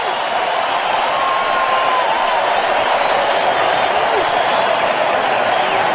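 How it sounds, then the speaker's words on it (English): A baseball crowd at a 2012 NL Division Series playoff game between the Washington Nationals and St. Louis Cardinals gives a standing ovation, a dense, steady roar of applause and cheering that fills the stadium evenly throughout. "and the crowd giving him a standing ovation."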